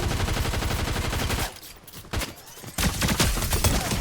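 Rapid gunfire in a French-played battle royale video game, with dense bursts of automatic shots up close, a brief lull in the middle, then renewed loud volleys.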